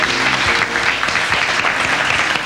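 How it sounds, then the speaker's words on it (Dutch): Studio audience applause on a Dutch television game show, a loud, dense, steady wash of clapping with no voices over it. "mag ik een hartelijk applaus voor Rini Groot"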